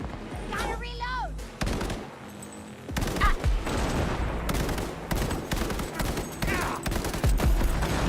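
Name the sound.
gunfire in the video game Cyberpunk 2077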